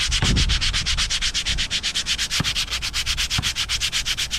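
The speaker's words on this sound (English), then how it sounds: "take your glazed pad and just scuff it up" A glazed brake pad is scuffed by hand with 60 to 80 grit sandpaper in quick, regular back-and-forth strokes, a close, gritty rasping that pulses steadily and stands alone.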